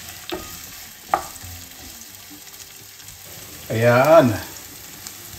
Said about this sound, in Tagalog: Gigisa ko po ang sibuyas sa sili.